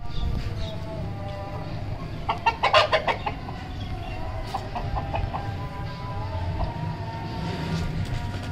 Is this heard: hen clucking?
yes